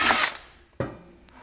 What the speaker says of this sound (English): Trash and drill, my favorite kind of drilling.